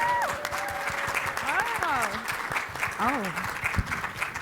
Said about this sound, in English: let's give a warm round of applause to the incomparable Christy Johnson